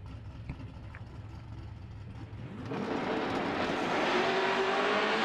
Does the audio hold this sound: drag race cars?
yes